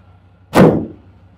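A van's thick rear door is slammed shut once, a single loud close-up thud that rings briefly and fades.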